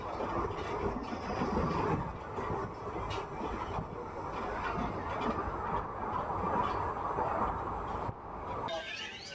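A Guntakal–Tirupati passenger train runs near Malakavemula station with a steady rolling rumble and rattle of wheels and carriages that lasts throughout, with faint clucking chickens in the background.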